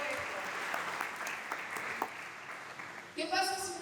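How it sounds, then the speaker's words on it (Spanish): A church congregation at an Easter Sunday service applauds in a steady, fairly distant patter of clapping, with voices mixed in, before a louder sound cuts in at the end. "¿Cuánto le dan un aplauso al Señor?"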